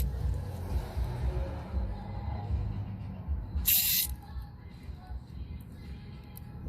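A short hissing spray burst, about a second long, aimed onto the engine of a Yard Machine snowblower that won't start. It is loud and close, over a low rumbling background.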